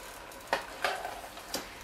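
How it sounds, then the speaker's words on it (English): Curry Kwanzaa stew being stirred and tossed in a pot: a few soft scraping stirs over a faint, steady sizzle, close and fairly quiet. "I'm just going to give this a good stir."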